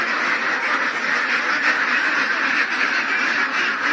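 A flock of ducks quacking steadily and loudly at a newly renovated duck house beside a water area, many overlapping calls forming a continuous, dense chorus close by.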